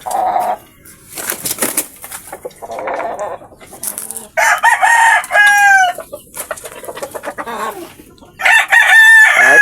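Chickens cluck busily close by while roosters let out several loud crows, a noisy, overlapping barnyard chorus with no talking, inside a hut used as a chicken coop.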